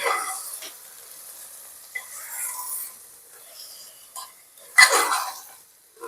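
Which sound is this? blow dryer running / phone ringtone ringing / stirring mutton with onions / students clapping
stirring mutton with onions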